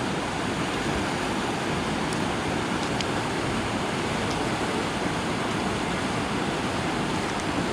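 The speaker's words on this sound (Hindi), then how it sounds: "नदी बहुत तेज़ है।" Fast-flowing river water rushing in a constant, dense broadband roar, close and loud, unbroken for several seconds with no talking, heard while casting a fishing net.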